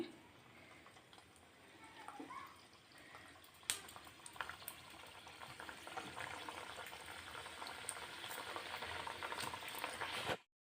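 Karam gavvalu, small crispy spiced shell-shaped dough pieces, frying in hot oil over a medium flame. The crackle is a steady, dense hiss that builds slightly in loudness, with a few sharper pops and clicks along the way and no voices.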